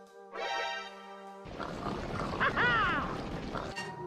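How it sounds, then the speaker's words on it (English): A Minecraft pig sound effect plays: a short tonal grunt, then a rougher stretch of snorting noise with squealing, sweeping cries near the end, fairly close and moderately loud. "The Minecraft pig?"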